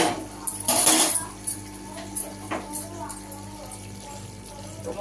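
A lid clatters onto a pan of morich paneer, a bright metallic clank near the start, followed by a few lighter knocks and soft kitchen sounds, with a voice speaking.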